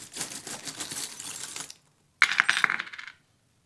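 Small metal tarot charms are scooped up and let fall, giving a burst of rattling clinks, a short pause, then a second brighter spill of jingling tinkles that fades out.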